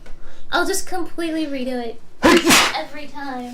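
A single sharp, loud sneeze bursts out abruptly near the end of a woman's speech, close to the microphone, with talking just before it.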